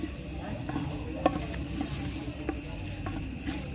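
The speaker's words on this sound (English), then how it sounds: "So I'm going to allow it to boil so that those tomatoes" Tomatoes simmer in a pot with a soft, steady bubbling sizzle, broken by a few light clicks and taps of a spoon against the pot, heard close with no talking.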